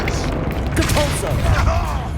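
Depulso spell cast in the Hogwarts Legacy video game, a brief rushing magical blast with swirling, whooshing texture, loud and close over a busy battle backdrop.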